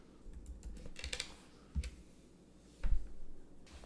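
Typing an email address and password on a computer keyboard: scattered, uneven key clicks in short bursts, close and fairly quiet, with no talking.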